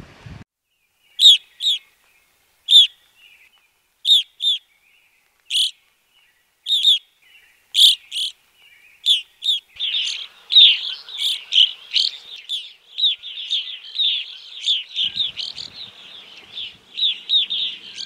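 A close evening grosbeak gives a series of short, sharp, evenly spaced chirps that grow into a busier run of overlapping calls, with no voices.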